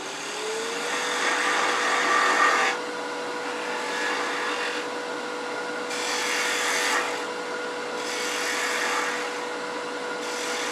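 A wooden Christmas tree ornament spins on a woodturning lathe, with a steady motor hum under it and a scraping cutting noise from the tool against the wood that rises and falls in several long passes.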